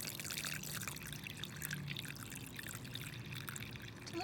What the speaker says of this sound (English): And now I'm going to put, very slowly, put some water